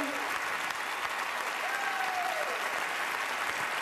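Audience applause fills a hall at a lifetime achievement award ceremony for Martin Short, a dense, steady wash of many hands clapping that holds evenly throughout.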